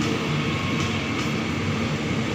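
Steady, loud rumbling roar from inside a commuter train running from Solo to Yogyakarta, a continuous broadband drone of wheels and carriage noise with no distinct clacks or voices.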